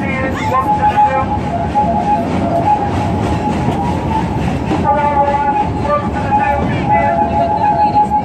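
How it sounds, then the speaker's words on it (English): Loud, steady rumble and rattle of the Omaha Zoo railroad train in motion, with wheel clatter and metallic squeals running through, while people talk over it. "please remain seated until the train comes to a halt"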